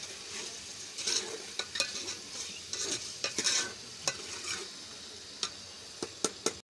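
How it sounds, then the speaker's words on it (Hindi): Onions sizzle steadily in a hot pan, with intermittent stirring scrapes and occasional sharp clicks of a utensil against the metal. "अभी जो इसमें प्याज डाल के प्याज की जो फ्राई हो रही है।"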